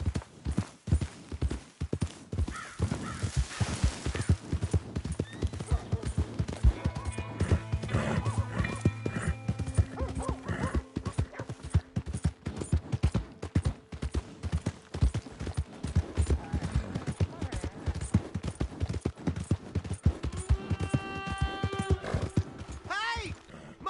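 Horse hooves clip-clopping at a gallop and a loud whinny in Red Dead Redemption 2 gameplay, steady rhythmic hoofbeats running throughout with game music and someone talking in places.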